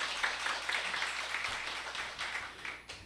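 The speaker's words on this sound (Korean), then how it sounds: "다시 한번 박수 부탁드리겠습니다" Audience applause fills a hall at a Korean panel discussion event, a moderate, sustained patter of many hands clapping at medium distance, with no talk over it.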